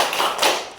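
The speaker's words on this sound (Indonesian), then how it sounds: "Kita tepuk salut untuk kita semua." Schoolchildren in an Indonesian junior high classroom clap together in a short tepuk salut routine, a quick burst of rhythmic hand claps.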